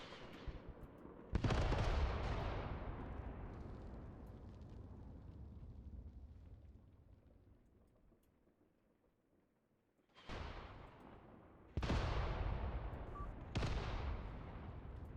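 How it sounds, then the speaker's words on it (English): Artillery shells and explosions in the war game Graviteam Tactics: a heavy blast at the start rolls into a long fading rumble, and three more loud booms follow in quick succession near the end. "Okay, we got artillery falling now."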